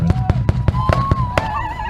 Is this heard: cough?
no